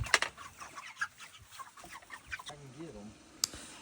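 Cornish Cross meat chickens raised from mail-order chicks cluck softly and intermittently at close range, with a few sharper calls scattered among low background noise.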